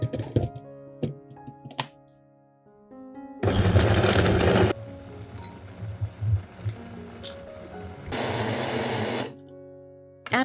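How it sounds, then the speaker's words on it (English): Sliced lemons whir in a kitchen blender in two short, loud pulses separated by quieter clunks and handling sounds. "Then, I place all the sliced lemons into a blender."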